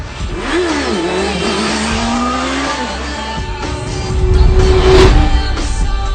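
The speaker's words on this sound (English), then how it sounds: "how can anyone go wrong with the sound of an inline 4" A high-revving Honda CBR650F inline-four motorcycle engine climbs and falls in pitch, loud and close, with a sharp rising scream near the end.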